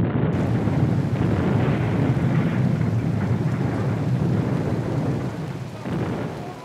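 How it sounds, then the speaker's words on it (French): Steady heavy rain with low rumbling thunder rolling beneath it, continuous and fairly loud, easing slightly near the end. "Ici, l'équipe de montage a dû faire avec la pluie."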